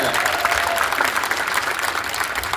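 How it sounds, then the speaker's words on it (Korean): Steady audience applause fills a book concert hall at a university in Jeju, a dense unbroken clapping from a seated crowd with no pauses. "박수 한번 주시고"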